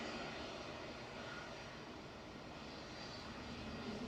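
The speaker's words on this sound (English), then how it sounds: "KLM from Amsterdam arriving" A KLM Airbus A321neo, flight 1031 from Amsterdam, arrives at Manchester Airport as a faint, distant and steady jet engine rush with no distinct events over a few seconds.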